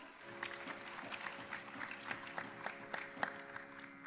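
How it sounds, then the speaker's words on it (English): An audience at a Kashmir symposium event gives a round of applause, a faint, scattered patter of claps with a low steady hum behind it. "Let us please give a big round of applause for Rishabh Sharma."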